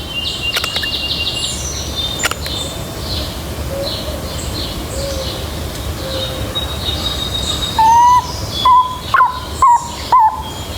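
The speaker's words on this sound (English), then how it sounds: "it is the way that owls say, that screech owls say, "I love you."" A screech owl gives a soft intimate call, faint wavering tones early on, then a few louder trilling notes near the end over a steady low background hum.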